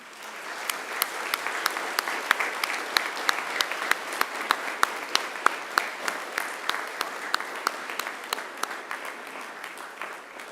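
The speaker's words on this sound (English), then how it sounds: "give them a big round of applause" Audience applause fills a university graduation ceremony hall at Macquarie, with distinct individual claps in a steady, moderately sparse patter that holds evenly for about ten seconds.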